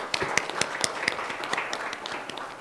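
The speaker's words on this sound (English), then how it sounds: "Let's give the panel a very big round of applause." A modest audience at a regional prosecutors' meeting claps for a panel, scattered individual hand claps at a moderate distance, fairly faint and uneven, without cheering.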